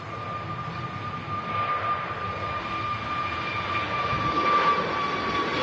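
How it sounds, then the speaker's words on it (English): A Pegasus Airbus A321neo jet departs Manchester Airport, its engines giving a steady, moderately loud roar from a distance that swells slightly toward the end, with no voices. "Pegasus A320 Neo, oh sorry, A321 Neo now departing."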